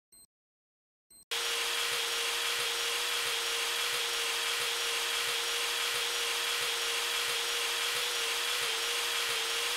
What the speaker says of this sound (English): I'm gonna take my drill.